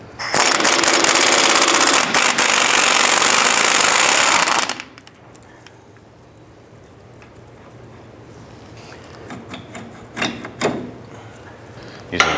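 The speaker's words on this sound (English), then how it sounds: "Using a 24mm socket, go ahead and remove the strut spring lower fork bolt." A 24mm socket on a power impact tool loosens the strut spring lower fork bolt of a 2005-10 Jeep Grand Cherokee, a loud sustained rattling burst of several seconds that cuts off, followed by quieter clinks and handling noises.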